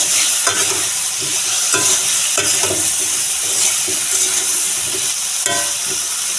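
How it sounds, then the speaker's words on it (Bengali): Spices with cumin powder sautéing in a pan for a cauliflower and tangra fish curry, with a steady hiss and sizzle and repeated sharp scrapes of a spatula stirring against the pan, loud and close. "মশলাটা দিয়ে আর একটু সময় কষিয়ে তারপর ঝোলের জলটা দিয়ে দেব"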